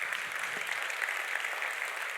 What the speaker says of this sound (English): As women mayors, yes, we can applaud